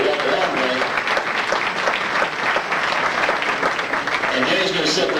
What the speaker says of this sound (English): Give Denny a nice round of applause for coming down here